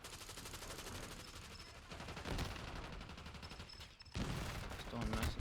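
Rapid automatic gunfire rattles through a round of Call of Duty Black Ops 6, dense bursts running almost continuously with brief gaps, while a voice talks underneath.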